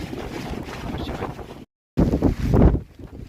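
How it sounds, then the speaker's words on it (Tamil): Strong wind buffets the microphone on a mountain summit on the Velliangiri hills trek, a loud, rough roar in gusts that breaks off for a moment and then returns harder, close and continuous. "ஏன்னா ரொம்ப காற்று, நிற்க முடியல."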